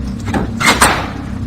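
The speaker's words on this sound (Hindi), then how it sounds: "फिर अचानक दरवाजे की भारी लोहे की कुंडी खोली।" A heavy iron door latch scrapes and clanks open in a couple of quick metallic knocks, close and fairly loud, with no voices.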